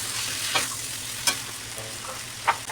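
Potato masala being stirred and sautéed in a pan, a steady close sizzle with a few soft scrapes of the spoon against the pan, heard alone.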